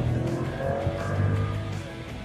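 Volkswagen T-Cross Turbo pulling away in first gear in manual mode, its engine a steady loud drone that climbs slightly as it accelerates, heard up close without voices.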